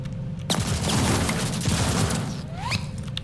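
Enemy fire aimed at the player during a Call of Duty: Vanguard multiplayer match. A steady crackle of shots fills the clip at moderate distance, with sharper cracks and mechanical clicks standing out.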